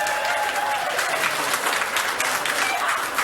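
Sustained applause from a crowd at a 1984 New Zealand election night gathering, dense and steady throughout, with some murmuring voices mixed into the clapping.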